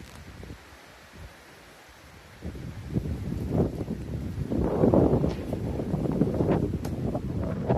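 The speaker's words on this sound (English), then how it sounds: "Apologies if the sound gets weird. It's very windy today." Strong gusts in a garden buffet the microphone, starting as a low rumble and swelling into loud, uneven blustering that keeps going to the end.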